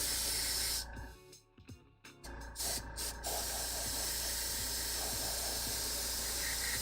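An airbrush sprays thin layers of paint onto a hobby model's metal parts, a steady close hiss that breaks off briefly in the middle and then resumes continuously.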